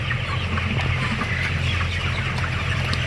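Poultry chickens in a shed, about ten birds of 1800 size, with soft clucking over a steady loud background hum and no talk.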